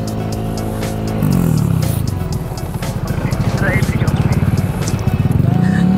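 Motorcycle labouring over a rough off-road track, its engine thrumming with rapid pulsing revs that rise and bog down, knocks and rattles from the rough ground, and people talking over it.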